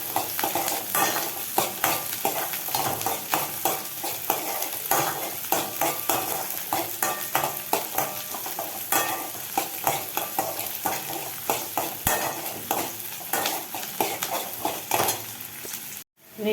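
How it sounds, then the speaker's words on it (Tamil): Onion and garlic frying in a pan, stirred steadily for a long stretch: rapid rhythmic scraping and clinking of a utensil against metal over a continuous sizzle, close and fairly loud, with no talking. "இந்த வெங்காயம் வந்து நல்லா வதங்கணும். அரைகுறையாக வதங்கக்கூடாது. வெங்காயமும் வெள்ளைப்பூடும் நல்லா வதங்கிடணும்."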